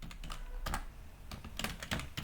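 Quick bursts of keystrokes on a computer keyboard while HTML code is entered, close and fairly quiet, with irregular clusters of clicks and brief pauses between them.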